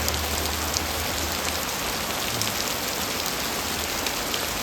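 Steady heavy downpour in a Gujarat village, a close, unbroken wash of raindrops drumming on the ground and roofs at constant loudness, no talking.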